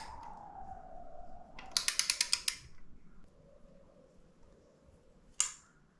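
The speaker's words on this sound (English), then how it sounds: "So we'll just go around slowly, tightening them up." A torque wrench clicks in a quick rapid series while tightening bolts on a BMW K100 motorcycle gearbox during a café racer build, followed by one more sharp metallic click after a pause.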